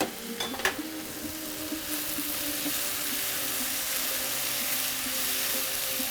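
Garlic, ginger and curry leaves frying in a pan for a spicy egg roast, with a few sharp clatters at the start and then a steady, even sizzle that holds loud and continuous.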